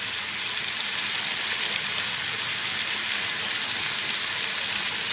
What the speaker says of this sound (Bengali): এখানে আমি 1 মিনিট ভালোভাবে ভেজে নিয়েছি আদা রসুন কাঁচা লঙ্কা পেস্টটা দিয়ে